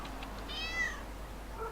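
A cat in the video game Lego City Undercover gives a single clear, rising-falling meow near the middle, followed by a shorter soft chirp at the end, quiet and alone over a low hum.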